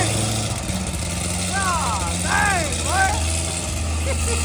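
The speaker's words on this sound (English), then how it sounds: "Cold start." An old ZR1 sports car engine idles after a cold start with a steady, loud, low rumble, while people talk excitedly over it.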